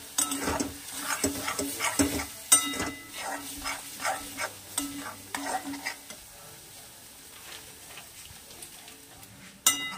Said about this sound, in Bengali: একটু আমি এটাকে নাড়াচাড়া করে নেব।